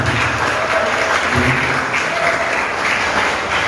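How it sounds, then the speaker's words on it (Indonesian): Audience applause at a Christian theological high school's class XII sending-off ceremony, a dense steady wash of many hands clapping throughout, fairly loud and without talk over it. "Ya, kita berikan tepuk tangan."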